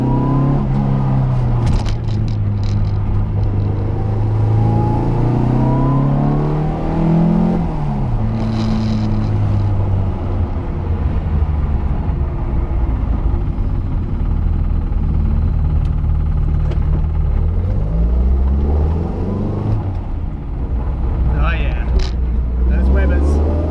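A Datsun 510 with a 2.4 litre stroker engine runs a quarter mile, its loud engine note rising and falling through repeated revving gear changes, close and continuous throughout.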